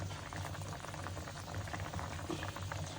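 Rohu fish curry with spinach bubbling in a pot, a steady close simmering burble with small popping bubbles, quiet and continuous with no voices.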